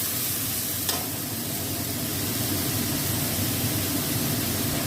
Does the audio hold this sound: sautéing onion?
yes